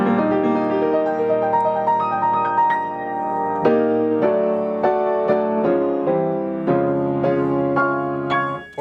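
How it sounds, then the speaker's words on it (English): A piano is played with the sustain pedal held, notes ringing into each other in a full, blended wash of chords and melody, close and steady with no talking. "they just love the sound of the pedal because it sounds like this big orchestra is all of a sudden playing instead of a regular piano"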